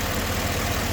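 A Chevrolet L92 V8 in a Yukon, Escalade or Tahoe sits at a raised idle, giving a steady, loud, low engine drone throughout with no voices.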